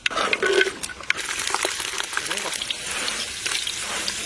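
Garlic with fenugreek seeds fries in hot oil in a pan for a South Indian fish curry: a steady close sizzle with a few scraping stirs and clinks in the opening second.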